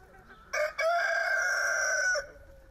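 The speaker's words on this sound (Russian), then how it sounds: "как петухи и куры." A rooster crows once, loud and close, with a brief opening note, then a long sustained call lasting about a second and a half, over quiet background.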